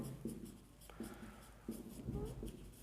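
Equations being written by hand, a series of soft scratchy pen or chalk strokes in short bursts, quiet and close, with a voice faintly present underneath.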